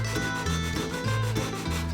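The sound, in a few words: sanding MDF guitar template with 320 grit sandpaper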